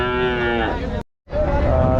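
A cow at a cattle market in Rajshahi gives a loud, close moo, breaks off briefly, then moos again.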